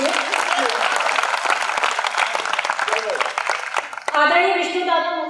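Audience applause at a Hindi poetry gathering (kavi sammelan): steady, dense clapping for about four seconds, then it gives way to a voice.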